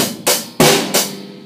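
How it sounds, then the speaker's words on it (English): Three loud crash cymbal hits on beat 2 with drum, evenly spaced, each ringing out with a long bright wash before the next strike. "You can add crashes in on beat 2 if you want to"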